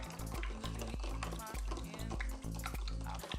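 Salt is stirred into water in a bowl, making rhythmic scraping and swishing strokes with small splashes, close and fairly quiet.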